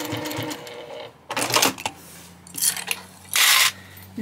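A sewing machine stitching handbag fabric runs in short bursts, close and fairly loud, with brief pauses between the runs of stitches.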